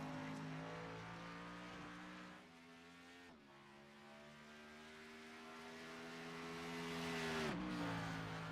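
A race car at Watkins Glen International screams past on track, its loud engine note holding high and steady, then dropping in pitch as it passes close by, with a second car's whine rising at the end.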